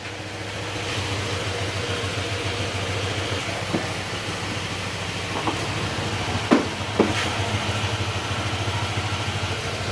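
A motorcycle engine idles steadily with a low, even rumble, broken by a few sharp clicks and knocks.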